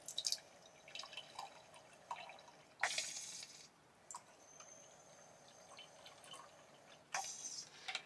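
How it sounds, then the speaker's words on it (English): Freshly filtered water runs into a cup inside a Storyteller Overland MODE 4x4 Sprinter camper van, heard as faint, intermittent trickles and drips in a quiet space. "So now I'm just going to fill up my cup with some freshly filtered water."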